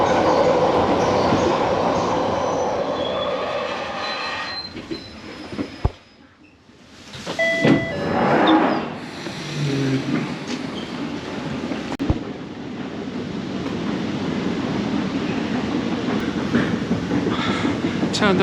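London Underground train heard from inside, a loud rumbling rush with clattering wheels that drops almost to quiet as it stops, followed by squeals and rising rumble again, with occasional voices underneath.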